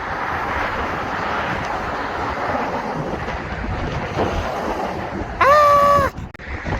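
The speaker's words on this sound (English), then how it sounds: "It's windy." Strong wind gusting across a traffic-shaken bridge over Twin Falls, a constant rushing roar with buffeting on the microphone; a brief high tone cuts in near the end.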